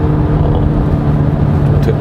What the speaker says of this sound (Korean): 근데 이 소리가 가상 엔진 사운드 치고는 꽤 괜찮은 것 같아요.